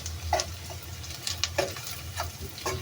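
Garlic tossed into hot oil, crackling in a close, steady sizzle while a spatula stirs, making several distinct scraping clinks at irregular intervals against the pan, no talking.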